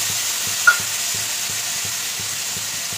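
Ground spices with tomato purée and ginger paste frying in a pan for homemade potato curry, a steady close hiss under a faint, regular low stirring rhythm, with one brief clink.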